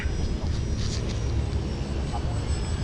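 An RC trainer model airplane flies at about half throttle, its engine a steady droning buzz that holds at even loudness throughout, heard from outdoors with wind noise.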